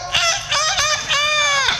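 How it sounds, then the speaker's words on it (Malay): Loud, close fowl calls, several harsh honking squawks in quick succession, fitting a chicken clucking and crying out with no talk over them. "Bunyi ayam. Cak ayam."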